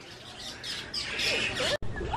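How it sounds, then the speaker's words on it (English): Birds squawk and chirp inside a walk-through aviary at Disney's Animal Kingdom, with fairly loud, busy calls over a constant background hiss and a brief dropout near the end. "we are in a bird enclosurement. So they're just flying around."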